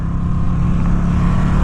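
A 2017 Ducati XDiavel S motorcycle engine pulling hard in second gear, a steady loud low drone with wind rush, close and continuous with no break.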